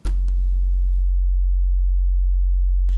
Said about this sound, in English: if you can hear this, it's really a low sine wave